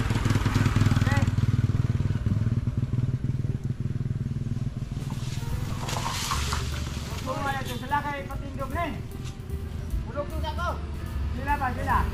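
Motorcycle engines rumble and pass by steadily, with people talking over the traffic noise throughout.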